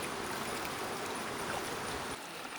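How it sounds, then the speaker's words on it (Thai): Flowing stream at Khao Khram waterfall in Khao Pu-Khao Ya National Park, Phatthalung, a steady close rush of water filling the whole short stretch with no voices. "แวบมาเล่นน้ำและฟังเสียงลำธารอย่างสบายใจเฉิด"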